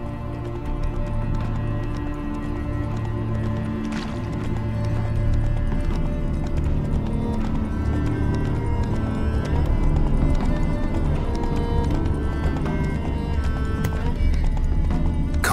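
Hoofbeats of a horse galloping steadily through a dense game soundscape in The Witcher 3, with neighs and whinnies breaking out over a continuous rumble of music and ambience for the whole stretch.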